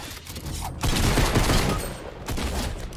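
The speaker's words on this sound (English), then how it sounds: "Yeah, keep shooting at me" Video game gunfire in a bursty stretch of rapid shots and volleys, loud and close, rising and falling over a few seconds with no talk over it.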